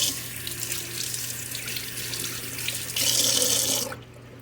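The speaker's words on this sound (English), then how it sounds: "I'm going to rinse my hands off." Tap water runs steadily into a kitchen sink as hands are rinsed off during cooking, a constant close hiss that briefly grows louder and splashier before the flow cuts off near the end.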